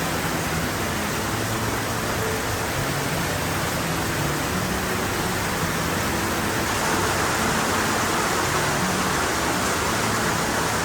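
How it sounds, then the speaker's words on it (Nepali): Heavy rain pours down in a steady, dense roar, loud and unbroken throughout, with no voices over it. "कत्रो परेको हो पानी कत्रो परेको हो हाम्रो"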